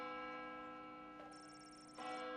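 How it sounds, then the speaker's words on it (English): A bell rings in the video game Lil' Guardsman, a sustained metallic tone with a ringing overtone joined by a brief high chiming layer, quiet and alone. "Bell rings."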